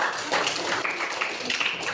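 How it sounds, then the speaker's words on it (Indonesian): A classroom of students claps for several project groups, a short continuous patter of many hands at moderate loudness with faint voices mixed in. "tepuk tangan untuk kelompok 8,"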